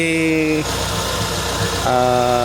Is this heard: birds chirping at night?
no